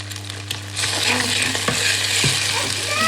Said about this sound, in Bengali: একটু পেঁয়াজ ভেজে নিচ্ছি আর সাথে সামান্য একটু ডিম দিয়ে দিলাম, একটু লবণ